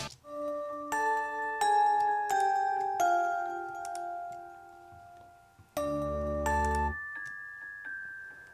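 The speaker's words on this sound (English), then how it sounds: "these little bells that we had" Little bells with a keyboard glockenspiel tone ring out a slow melody of bright, sustained chiming notes that overlap and decay, with a fuller, louder chord near the end, up close and without voices.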